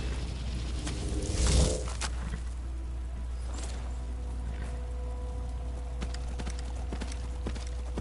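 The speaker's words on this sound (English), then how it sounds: "I keep forgetting I can summon a spectral horse." Summoned spectral horse hooves in Skyrim clop steadily at a brisk pace, fairly quiet over a low hum, with a brief louder thump near the start.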